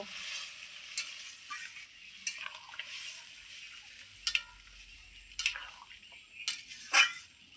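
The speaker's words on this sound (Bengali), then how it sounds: "এই আলু আর মশলা খুব সুন্দর করে আমি একবারে কষিয়ে নেব।" Fried potatoes and spices being sautéed in a pan for a duck egg curry, faint scattered scraping clicks over a soft, steady sizzle.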